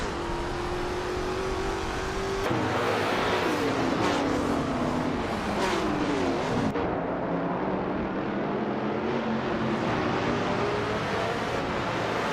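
Race cars run in a nonstop race, engine tones whining and shifting pitch as they accelerate and pass one another, a continuous dense roar with no one talking.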